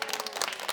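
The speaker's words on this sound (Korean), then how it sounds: "근데 이렇게 많은 박수를 받을 건 아닌 것 같아요" Audience applause at a Korean talk concert, a brief burst of steady clapping from a crowd, moderately loud with no voices over it.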